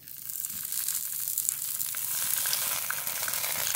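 Leaf-wrapped koi fish frying in mustard oil in a hot wok gives off a steady bright sizzle and crackle, continuous and moderately close, with faint scraping underneath.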